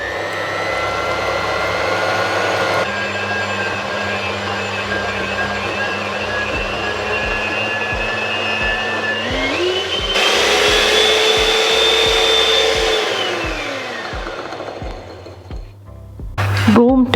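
An electric mixer beats butter, sugar and sunflower oil for a red velvet cake, a continuous motor whine that shifts up in pitch as the speed rises, then winds back down before stopping, with faint knocks against the bowl.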